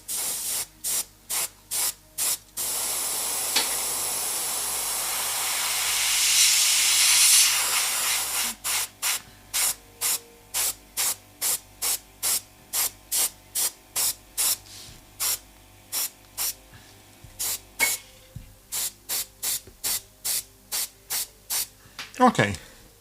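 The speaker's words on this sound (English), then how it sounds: "now I'm just drying the paint" Airbrush blowing air over freshly applied miniature paint to dry it, a continuous close hiss swelling for several seconds, then dozens of short regular bursts of air in a steady rhythm.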